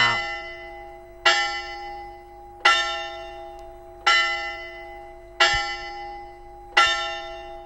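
A clock tower bell in the game Jisei strikes six times in the span, each clear metallic toll ringing out and decaying before the next, evenly spaced about 1.4 seconds apart, loud and alone.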